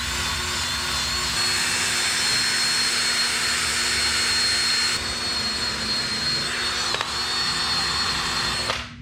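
A rotary polisher works cutting and polishing compound over the clear-coated headlamp lens of a JDM Honda Odyssey RB1, giving a steady, loud, high-pitched whine that holds constant throughout and cuts off at the end.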